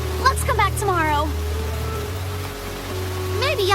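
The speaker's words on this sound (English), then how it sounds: "The rain is only getting worse, Apple Bloom." Heavy rain falls in an animated scene as a steady, even hiss that continues beneath several characters talking.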